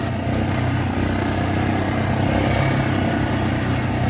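A Yamaha Grizzly ATV engine runs steadily nearby, a loud, even low-pitched putter that holds constant throughout with no voices.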